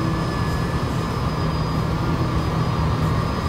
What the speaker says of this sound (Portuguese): esse meu avião aqui ele sobe igual helicóptero